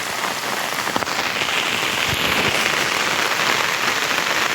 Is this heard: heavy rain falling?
yes